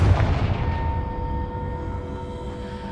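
A Confringo spell in Hogwarts Legacy sets off a loud, close explosive boom that fades into a ringing, decaying tail.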